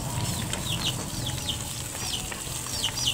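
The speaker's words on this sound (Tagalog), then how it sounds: "Sibuyas, bawang, luya. Yan, kailangan igisa muna natin to." Onion, garlic and ginger sizzle steadily in a pan as they are stir-fried for a Filipino octopus dish in coconut milk, a continuous close frying hiss with small stirring scrapes and bird chirps in the background.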